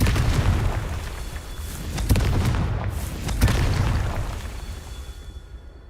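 Confringo spell explosions from Hogwarts Legacy boom one after another, with two sharper blasts standing out over a dense, continuous roar of game effects that slowly fades at the end.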